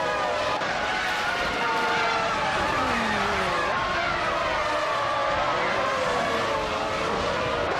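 F1 1998 race cars racing on the Grindelwald track in a video game, a dense, continuous roar of several engines whining and shifting pitch, with talk running over it.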